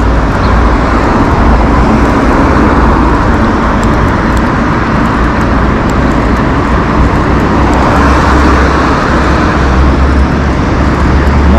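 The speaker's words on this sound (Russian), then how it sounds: "Транспорта достаточно много." Heavy road traffic streams past a cyclist riding along a busy highway in Lazarevskoye, Sochi, a loud continuous roar of engines and tyres with dense low rumble and no pauses.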